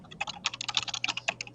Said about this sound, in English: some keyboard is clacking loud